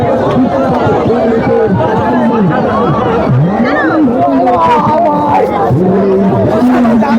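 A thick, loud hubbub of many voices talking at once at the crowded Bishnupur second-hand fair, close and continuous, with individual voices rising out of the babble.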